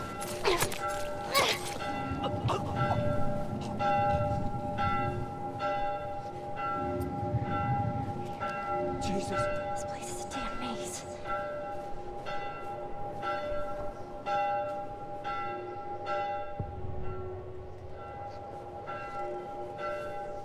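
Church bells ring repeatedly in the video game The Last of Us, a steady metallic tolling over ambient background with occasional low rumbles and muffled voices.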